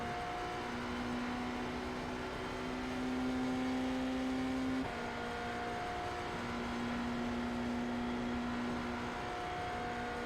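Race car in an IMSA endurance racing video game at Spa, sliding on the track: a steady, loud engine drone with sustained tonal whine and tire noise that shifts pitch midway, with no talk.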